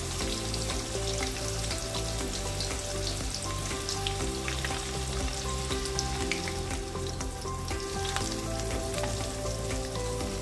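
Mustard seeds and onion pieces frying in hot oil make a dense, continuous crackling sizzle that holds at an even level throughout, with no voices.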